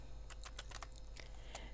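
Rapid clicking of keys on a computer keyboard as a title is typed into a spreadsheet cell, irregular close taps over a steady low electrical hum.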